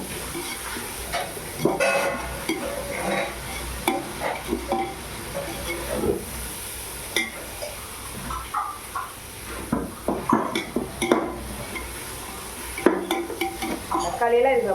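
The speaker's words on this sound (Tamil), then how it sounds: "4 தக்காளி எடுத்து நறுக்கி வச்சுருக்கோம். அதையும் போட்டுக்குவோம்." Chopped tomatoes sizzle and fry in a pan while being stirred for ghee rice, with steady frying hiss, scraping of a spoon against the pan and occasional utensil knocks throughout.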